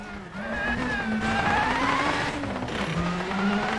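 Rally car engine in WRC 9 holds a steady droning note with rising and falling pitch as it accelerates and shifts, with tyre noise and skidding on gravel or snow stages throughout, loud and continuous.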